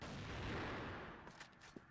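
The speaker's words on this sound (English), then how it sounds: "Bit of a sniper exchange." Sniper rifle shots traded in the shooter game CrossFire: a loud burst of firing fades out, followed by a few sharp, isolated cracks.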